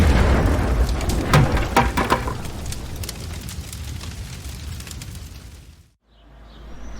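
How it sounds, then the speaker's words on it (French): An explosion sound effect, tied to the hazards of working near power lines, opens with a heavy deep boom and crackling bursts, then rumbles and fades before cutting to near silence near the end. "ou l'explosion."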